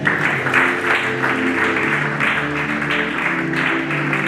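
A church congregation applauds steadily and loudly during a service, with voices calling out through the clapping.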